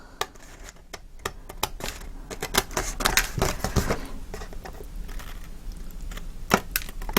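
A cutter slicing the excess off a tri-fold photo frame gives a rapid series of sharp clicks and short scraping strokes at uneven intervals, close and crisp, with no talking.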